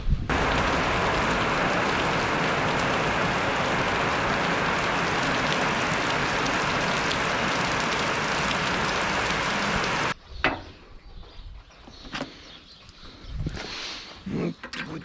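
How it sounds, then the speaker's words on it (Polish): Rain falls steadily on a farm yard during harvest preparations, a dense hiss for about ten seconds before dropping off into quieter scattered patter. "Oj, pada znowu."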